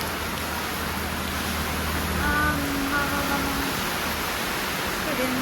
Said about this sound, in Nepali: अब घर जाने बेलामा यस्तो पानी पर्यो